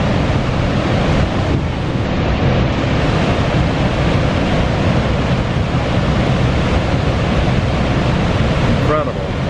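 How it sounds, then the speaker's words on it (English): Roaring Niagara Falls seen from the Canadian side, a loud, steady wall of rushing water noise that never lets up, with wind buffeting the microphone throughout. "And now for the Canadian side of the Niagara Falls."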